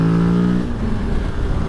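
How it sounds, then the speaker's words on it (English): Morbidelli T200V adventure motorcycle at full throttle, its intake giving a loud droning roar that rises in pitch and then breaks into rougher engine noise under wind rush, close to the rider. "what a hilarious intake noise that is"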